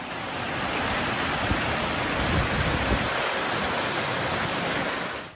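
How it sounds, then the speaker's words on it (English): A hailstorm in Paris, with hailstones up to 4 centimeters across hammering down as a dense, continuous roar of broadband noise, loud and steady throughout. "a downpour of hail put a strain on the city's infrastructure"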